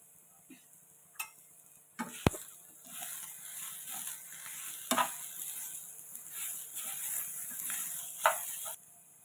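Grated coconut being stirred into a vegetable thoran in a pan: a soft sizzle runs underneath while a spatula scrapes and taps the pan at irregular moments, close by, with no one speaking.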